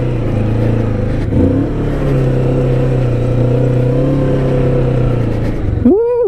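A Kawasaki Vulcan S motorcycle engine drones loudly and steadily while riding, then climbs sharply in pitch in a quick rev near the end.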